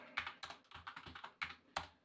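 Quick bursts of close, quiet keystrokes clatter on a computer keyboard in an uneven rhythm, with several sharper taps standing out.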